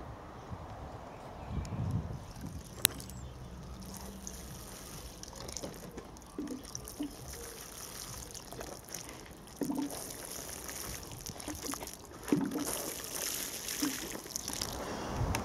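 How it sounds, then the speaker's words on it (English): Water pours from a can onto sifted soil in parsnip seed holes, a soft steady trickle with several splashy bursts and pauses as the can moves between holes, outdoors with faint background noise and no talking. "just like to give them a drop of water on the top to settle the soil down before we start sowing."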